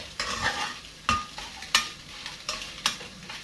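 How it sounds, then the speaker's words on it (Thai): Instant noodles with egg being stir-fried in a pan, with repeated scraping and clacking of a utensil against the pan over a steady sizzle in an irregular stirring rhythm, close up, no talking. "ผัดให้มันได้ที่"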